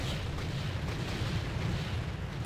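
Explosive barrels blowing up in Warcraft III make a dense, continuous rumbling roar that holds at an even, heavy level throughout, with no talking.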